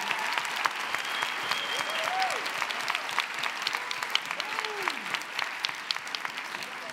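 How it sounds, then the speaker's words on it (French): Sustained applause from the audience at a university three-minute thesis final evening, dense and steady for about seven seconds, with a few faint voices mixed in underneath. "Merci beaucoup à tous les deux, on peut les applaudir."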